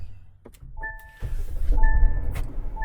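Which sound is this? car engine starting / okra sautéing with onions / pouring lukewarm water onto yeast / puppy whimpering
car engine starting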